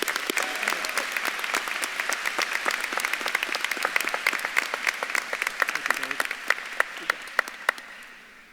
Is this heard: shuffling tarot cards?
no